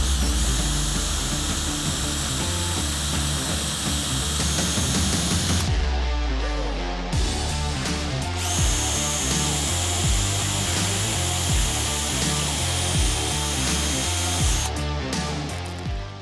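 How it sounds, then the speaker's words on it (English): Power drill boring pilot holes for the fixings of a 3-lever sashlock in a door: a loud continuous motor whine with grinding, pausing briefly twice before starting again, close and with no voices. "Now you can just pilot drill a hole"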